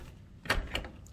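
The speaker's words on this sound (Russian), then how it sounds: "Подержи дверь." A hotel room door in Ryazan opens with two brief knocking clunks of the latch and frame, close and moderately loud, half a second apart in a quiet hallway.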